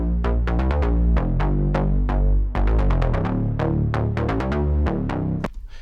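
A synthesized wavetable bass, processed with an envelope-driven low-pass filter, distortion, compression and reverb, plays a rhythmic pattern of repeated punchy plucked notes in a remix, loud and continuous with a sharp stop at the end.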